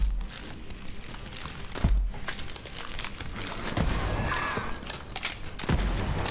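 Shotgun blasts in Borderlands 3 fire as single heavy booms spaced a couple of seconds apart over a busy combat background of crackling and rumbling noise.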